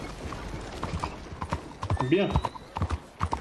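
Horse hooves clip-clop in a quick uneven rhythm in Red Dead Redemption 2, close and clear, with someone talking over the steps and a brief whinny-like tone partway through.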